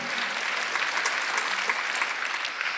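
A church congregation at a Sunday worship service breaks into continuous applause, a thick, even wash of many hands clapping together for a few seconds, with no voices over it.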